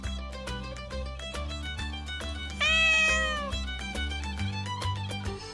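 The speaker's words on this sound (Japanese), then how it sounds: "いつも飼い主さんにミャーミャー話しかけてきます。" A cat meows once, a rising, wavering cry that stands out over music playing in the background.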